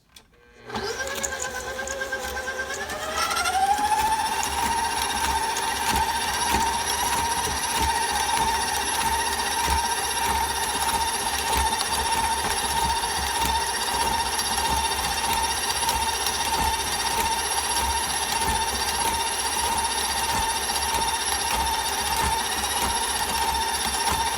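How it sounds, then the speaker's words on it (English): An electric mixer starts up and rises in pitch, then runs on medium speed at a steady, even whine while mixing pecan fudge pie filling, close and continuous with no talking. "So now we're going to mix this for about 30 seconds on medium."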